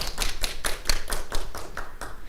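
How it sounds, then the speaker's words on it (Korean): A small group claps in a steady, quick rhythm of about ten sharp claps, moderately quiet, welcoming a student presenter at a youth forum held by a girls' high school. "여러분 박수 환영해 주시죠"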